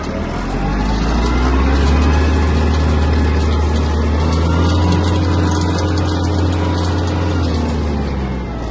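A Mitsubishi MT-246 Japanese mini tractor engine drones steadily and loudly while driving, with a low mechanical hum and rattling, close by and continuous throughout.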